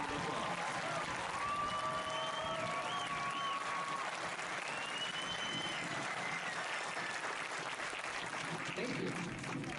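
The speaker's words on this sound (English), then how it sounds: "If we could please give our Senior Scholars a round of applause." Sustained applause from a graduation audience at a high school commencement honoring senior scholars, steady and dense for the full stretch, with crowd murmur and faint voices mixed in.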